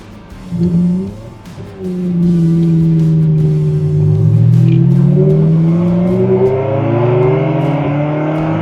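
A 2004 Ferrari 360 Spider in Rosso Corsa with the F1 transmission, revving loud and close while driving, its engine note climbing and sweeping through gears in smooth rising tones, no talking.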